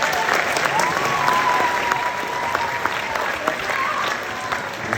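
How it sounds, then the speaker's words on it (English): Applause from a crowd of young athletes at a sportsmanship awards event in a school, a steady sustained wash of clapping at moderate distance, with some faint voices mixed in. "give yourself another round of applause."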